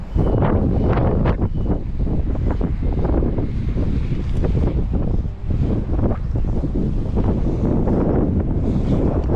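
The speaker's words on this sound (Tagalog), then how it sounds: "Lakas ng hangin ah." Strong wind roars steadily and loudly into the microphone beside a boat on open water, a rough, continuous buffeting with constant gusty turbulence.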